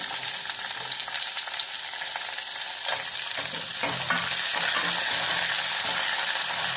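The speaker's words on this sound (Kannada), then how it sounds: "ಇವಾಗ ಈರುಳ್ಳಿ ಹಾಕೋಣ." Onions frying in hot oil for a Kannada-style greens rasam tempering, giving a steady, loud, close sizzle with stirring scrapes and clinks throughout, growing slightly louder toward the end; no talking.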